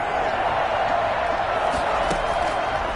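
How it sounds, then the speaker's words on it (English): Steady roar of a stadium crowd cheering in a Madden football video game ahead of a big third down, a continuous wash of noise with a commentator talking over it. "The crowd getting into it as we come up on a big third down."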